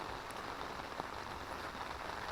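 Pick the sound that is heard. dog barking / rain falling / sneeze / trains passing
rain falling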